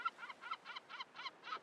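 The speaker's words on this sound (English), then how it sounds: "And loud seagulls." Seagulls calling loudly in a rapid series of about seven honking, squawking notes, evenly spaced and close by, with no other sound around them.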